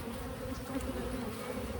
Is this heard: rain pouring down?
no